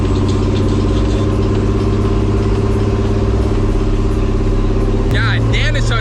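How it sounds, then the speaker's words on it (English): A dually pickup truck, part of a custom 6x6 build at a truck meet in Miami, holds a loud, steady engine drone as it builds for a burnout, with a sharp shift in tone near the end; voices talk over it. "my boy about to do a mean burnout in this dually right now"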